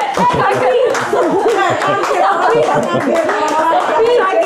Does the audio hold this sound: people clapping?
yes